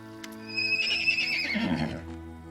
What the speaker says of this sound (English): they snort loudly and neigh as you approach